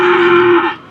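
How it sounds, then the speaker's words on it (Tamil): A cow at a cattle market lets out a single loud, close moo lasting under a second, alone with no talk. "மாடு அம்மா போட்ட மாடு"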